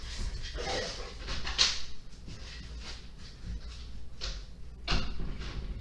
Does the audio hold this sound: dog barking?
yes